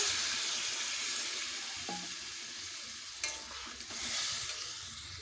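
Water poured into a pan of spiced mutton that is already sizzling, giving a steady frying hiss with a brief splash and a soft clatter as the liquid goes in.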